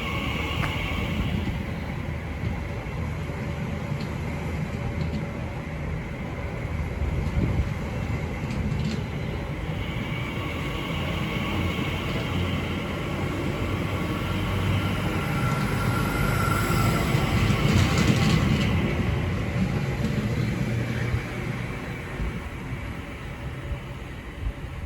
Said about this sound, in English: And now departing is the 1343 TfL rail service from London Paddington